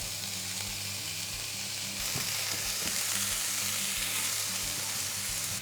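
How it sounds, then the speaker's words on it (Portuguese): Chopped onion sizzling and frying in hot olive oil in a pan, a steady loud crackle with occasional stirring clatter, no voices. "Com o azeite já quente vamos adicionar a cebola."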